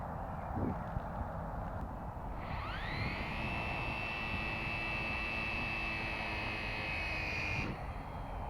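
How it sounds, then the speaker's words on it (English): Small electric motor of an Air Hogs Zip Wing electric glider whines steadily at a high pitch, starting with a rising sweep and holding for about five seconds before cutting off, heard outdoors over a broad background hiss. "motor's definitely going slower now"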